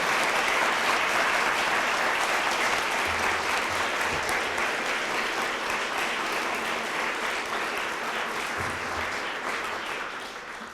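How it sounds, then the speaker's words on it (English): Steady applause from an audience at a university gift announcement fills the whole stretch, dense and even, tapering only slightly toward the end. "Let's give them a round of applause again"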